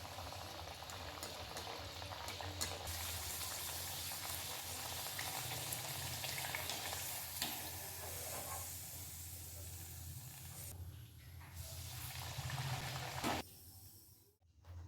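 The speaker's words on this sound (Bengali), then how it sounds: "তেলটা গরম হয়ে গেছে, এবার এগুলো আমি দিয়ে ভেজে নিচ্ছি।" Rice flour and semolina luchi fry in hot white oil in a kadai, a steady, loud hiss and sizzle of bubbling oil running continuously before dropping off near the end.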